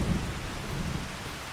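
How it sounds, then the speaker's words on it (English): Rain and rumbling thunder in the video game Farming Simulator 25, set on a Louisiana farm, form a steady hiss of rainfall with low thunder rolling underneath, continuous and enveloping, with no voices. "We'll get that started once the rain stops."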